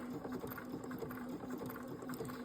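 A sewing machine runs steadily, stitching paraglider lines with a continuous fast rhythmic whirr at moderate volume. The narrow stitch width is set low on the dial, and no voices are heard.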